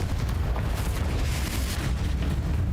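Confringo fire-blast spell exploding in Hogwarts Legacy, a dense, sustained rumbling blast with crackling noise across the whole moment, no voice over it.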